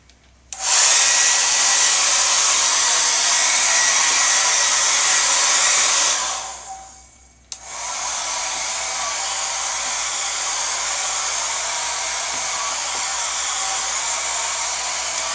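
A hair dryer blows steadily and loudly on fine marmorino Venetian plaster. It runs alone for about six seconds, winds down and cuts off briefly, then starts again and holds a constant roar.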